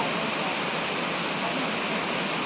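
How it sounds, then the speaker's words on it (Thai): Steady rushing of Mae Phun waterfall in Uttaradit, Thailand, a dense unbroken roar of flowing water heard up close with no other sounds. "ดูตรงนี้น้ำไหล"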